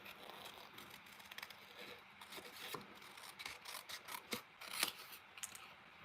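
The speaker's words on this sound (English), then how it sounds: "I'm going to fussy cut this out" Scissors fussy cutting a paper image out for a handmade card, a quiet, close series of short snips and rustling paper strokes, uneven in rhythm.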